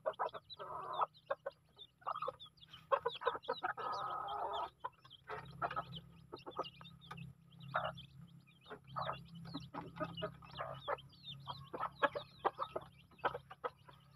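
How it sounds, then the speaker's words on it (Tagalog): Chickens, with small chicks present, cluck and chatter steadily during feeding time, many soft, quick calls close by over a low background hum, with no talk. "Pakain muna tayo sa mga manok natin."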